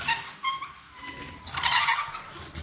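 Cars skidding in a spin, likely in a video game, with tonal squeals and bursts of bright tire screech that grow louder and denser in the second half.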